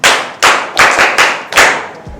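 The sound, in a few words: class clapping for a student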